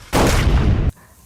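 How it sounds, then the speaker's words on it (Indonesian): A gunfight scene in a film delivers one heavy, booming burst of gunfire that lasts under a second, loud and close, before dropping off to quiet. "Adu tembak terjadi cukuplah sengit."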